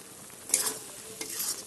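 Fried potatoes and okra are stirred in a pan, giving two short scraping stirs over a faint, steady sizzle, close and quiet.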